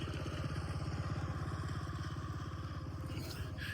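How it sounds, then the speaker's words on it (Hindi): A motorbike engine putters with a steady rapid pulsing beat, fairly close and continuous throughout, with a faint higher noise near the end. "एक और बाइक आ रही"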